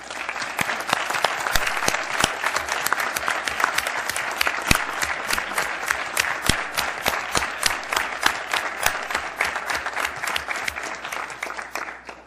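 An assembly audience applauds the election board members, dense rhythmic clapping at close range that holds steady for about twelve seconds before tapering off.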